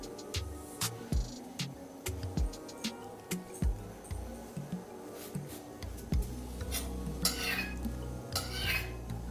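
Green pea paratha being flipped on a hot pan at medium heat, a run of light scraping and tapping knocks from the spatula against the pan, close and fairly quiet, with no talk.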